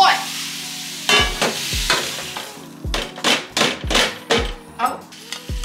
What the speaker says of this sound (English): I'm gonna go ahead and add all the steak.